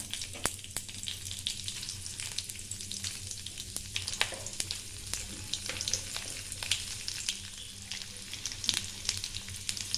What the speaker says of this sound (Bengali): এবার মাছগুলোতে আমি কালো জিরে ফোড়ন দেব আর দুটো কাঁচা লঙ্কা।